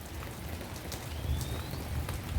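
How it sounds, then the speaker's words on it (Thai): Light rain falls steadily in a garden of flowering and ornamental plants, a soft continuous hiss with faint patter and no voices over it. "นี่นะคะฝนกำลังจะตกนะคะ"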